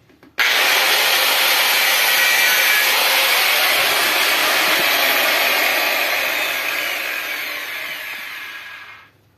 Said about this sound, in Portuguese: eu vou fazer um buraquinho até com a marquita mesmo, que minha ferramenta de furar não tá aqui não